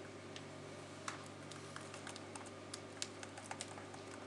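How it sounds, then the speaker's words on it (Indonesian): Keys on a faulty laptop keyboard, some of them not working, are pressed one at a time during a repair test, giving faint, irregular plastic clicks over a quiet steady hum. "Nah, ini dia, kita tes keyboardnya."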